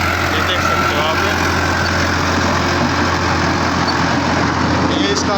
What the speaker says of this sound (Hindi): ये लैंड फॉरेस्ट की 9 फटी सुपर सीटर पे चला हुआ ट्रैक्टर है।